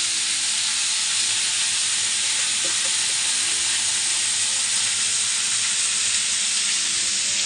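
Vegetarian jackfruit curry with fried potatoes and ground spices, made without onion or garlic, sizzles in the pan with a loud, steady, hissing fry and faint stirring throughout.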